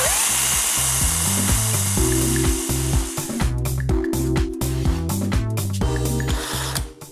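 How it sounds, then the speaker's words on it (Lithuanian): A power drill bores a hole through the middle of a plastic bottle with its base cut off, giving a steady loud whine and rattling chatter throughout, with no speech. "Viduryje su tuo pačiu grąžtu išgręžiame skylę."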